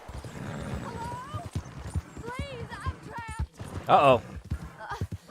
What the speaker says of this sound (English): My horse collapsed.